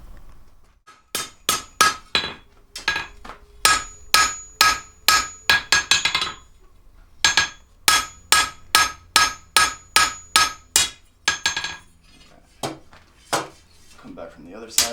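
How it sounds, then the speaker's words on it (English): A blacksmith at a historic village Independence Day demonstration strikes metal on an anvil with a cross-peen hammer, giving bright, ringing blows in fast, even runs with short pauses between them, close and loud. "I'm going to move over to a cross-peen hammer"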